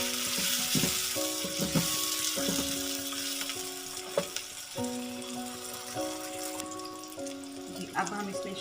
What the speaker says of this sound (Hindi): 2 से 3 मिनट टमाटर को भी हमने इस मीठे मसाले में अच्छे से भून लेना है,